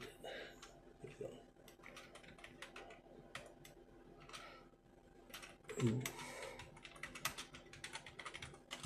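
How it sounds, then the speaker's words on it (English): Quick bursts of typing on a computer keyboard, close and fairly quiet, the clicks coming in uneven runs with short pauses. "Let's type it in here."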